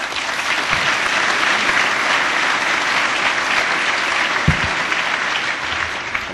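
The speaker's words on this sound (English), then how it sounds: "Thank Dado for leading that applause." Dense, sustained applause from a large audience at the 2012 Oakland County State of the County address, a steady wash of many hands clapping close and loud, with a couple of brief low thumps partway through.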